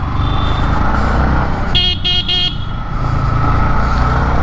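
A Yamaha MT-15 motorcycle rides amid loud, constant engine and wind rumble in traffic, with a short burst of repeated vehicle horn honks cutting in near the middle.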